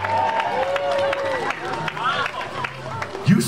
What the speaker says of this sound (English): please a nice round of applause for Billy Apana. Hey! Everybody cheering!